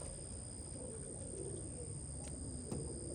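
Young late-hatch racing pigeons coo softly and steadily in a loft, a low continuous murmur with a few faint chirps and wing flutters nearby.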